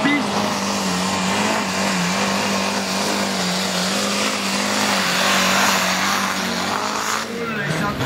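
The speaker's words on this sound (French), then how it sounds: "On fait tourner le moteur" A compact diesel race car engine runs on a track at Silly, Belgium, holding a steady, loud, droning note throughout, with tire noise and faint talk underneath.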